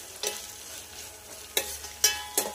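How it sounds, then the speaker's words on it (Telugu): Washed dried shrimp fry in oil for a Telugu dried-shrimp curry, a soft sizzle close by broken by a few sharp stirring scrapes and crackles, with no talking. "నూనెలో కొంచెం బాగానే వేగనియాలి."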